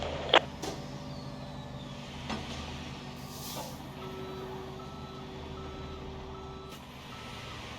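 A tow truck's reversing alarm beeps steadily in the Police Simulator: Patrol Officer video game, clear over a low engine hum at an accident scene, with a brief air-brake hiss partway through.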